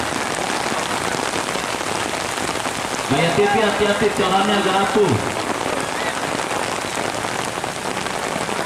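Heavy rain pours steadily throughout a football match in the Rengas Cup round of 32, a dense constant hiss, with a commentator's voice talking over it partway through.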